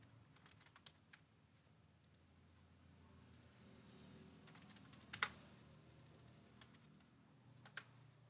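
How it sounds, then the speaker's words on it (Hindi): Steady keystrokes on a computer keyboard while text is entered into an online application form, with irregular soft clicks and an occasional sharper tap over a low background hum. "तो आपको टाइप ही करना पड़ेगा।"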